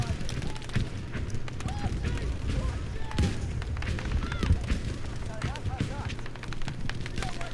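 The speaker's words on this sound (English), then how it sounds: "Whose artillery is this?" Artillery fire and battlefield explosions in the video game Battlefield V, a dense low rumble of distant blasts and gunfire under someone talking over it.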